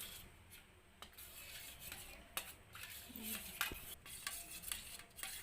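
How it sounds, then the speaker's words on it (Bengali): A spoon stirs a little Amul milk powder into a mixture, giving quiet, irregular clinks and scrapes against the bowl. The sound is close but faint, with no talking. "কিছুটা আমুল পাউডার দিয়ে দিচ্ছি। খুবই অল্প করে দিচ্ছি। গুলে নিচ্ছি।"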